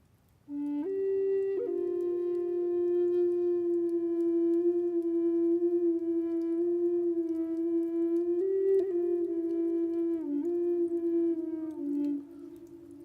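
Flute played with holes one-third and two-thirds covered, sustaining a single breathy low note that shifts slightly in pitch and timbre over about eleven seconds, played alone and fairly soft.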